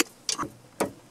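Torque wrench tightening brake bolts on a Land Rover Discovery 3 rear brake, two quick sharp clicks close up in a quiet space.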